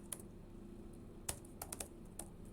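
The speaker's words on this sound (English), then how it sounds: "I type generators, and then I type git" Scattered computer keyboard keystrokes while entering commands, a handful of sharp clicks spaced irregularly over a low steady room hum, fairly quiet and close.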